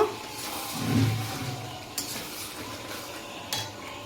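Chicken and papaya pieces are stirred in a pan, with a scraping stir near the start over faint frying, then two sharp utensil clinks against the pan a moment apart.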